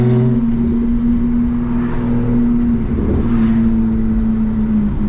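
A Lamborghini's engine drones nearby on the road, heard over the steady, loud hum of a single-turbo BMW 335i cabin, with a sustained low tone and a slight swell midway.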